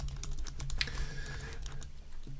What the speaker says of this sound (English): I'm just going to type in something very random